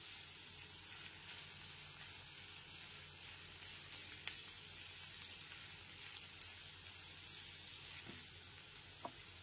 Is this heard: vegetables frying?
yes